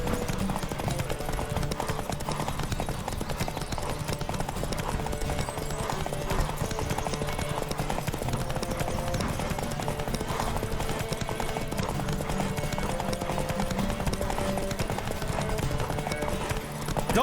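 A horse gallops in The Witcher 3, its hooves drumming in a fast, continuous rhythm close by for the whole stretch, with faint voices and game sounds underneath.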